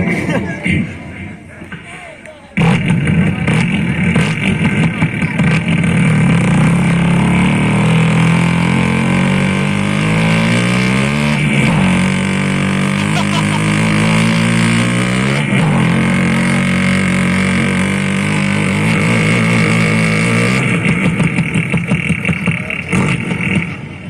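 A car engine drones loudly and steadily from inside the vehicle while it is driven, with a voice talking over the hum.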